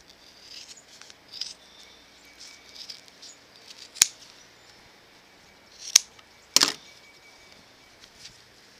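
Scissors snip through the fur of an old beaver skin jacket, giving a few sharp, isolated cuts spaced apart over quiet background rustling.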